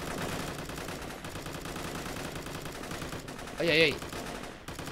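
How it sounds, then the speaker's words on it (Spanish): Machine-gun fire crackles in bursts during an Operation Valor multiplayer battle. The shots rattle rapidly in the background while a man briefly exclaims over them. "¿Quién está disparando?"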